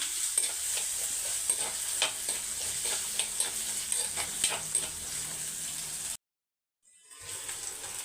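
Shallots and garlic sautéing in a pan with a steady sizzle and regular spatula stirring scrapes, close and continuous, then about a second of abrupt silence before the frying resumes.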